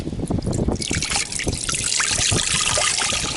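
Bilge water and gunk draining out of a Hallberg Rassy 352 sailboat, a close, uneven splashing trickle and gurgle of liquid pouring and dribbling steadily.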